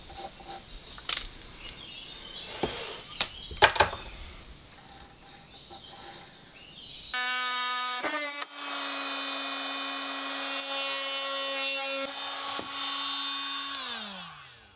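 A corner notch is cut into a wooden board, first with scattered knocks and handling clatter, then a loud, steady high-pitched power-saw whine that runs for several seconds and winds down.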